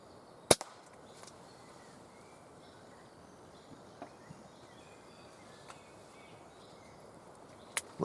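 An air rifle fires at a squirrel in windy woodland, one sharp close crack early on, then a few fainter ticks and another snap near the end over a soft wind hiss.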